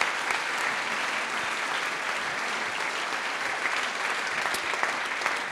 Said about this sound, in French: Et que nous applaudissons très fort.